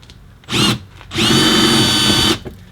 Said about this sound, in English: The rivet is spinning when I try to drill it out.